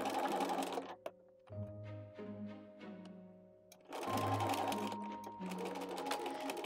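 A sewing machine stitches the fabric of a German women's headdress cap in bursts, a close whirring run that pauses briefly in the middle with lighter hum, then resumes loudly before stopping.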